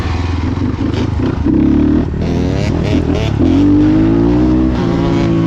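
Motorcycle engine revving and accelerating during wheelie practice on a legal spot, loud and close, with rising pitch sweeps and a steady engine drone throughout.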